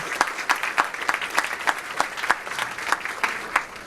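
A modest lecture audience gives a round of applause, the clapping sparse enough that a rhythmic pulse of individual hands comes through, fairly close and steady.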